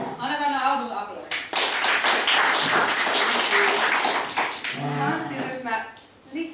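An audience applauds at a Finnish event just before a dance group performs, giving a dense burst of clapping of about three seconds between stretches of a presenter's amplified speech.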